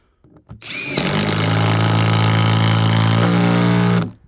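A Makita cordless screwdriver drives a turbo screw into elm wood, a steady loud motor whine with a labouring low drone that starts abruptly, runs about three seconds and cuts off, with no talk over it.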